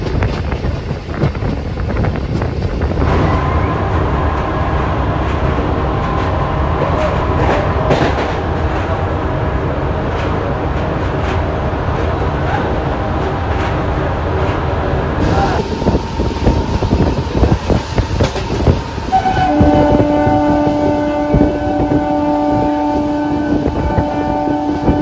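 MEMU passenger train running on the Diva-Khed-Chiplun route, heard from on board as a continuous loud rumble of wheels on track with rhythmic clatter, a steady whine, and wind buffeting, with faint voices now and then.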